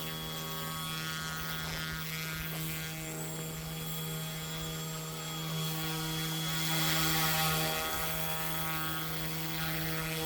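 A Carmanon Bell UH-1D radio-controlled model helicopter flying inverted, a steady high electric motor whine with layered buzzing tones that swells briefly as the rotor load changes.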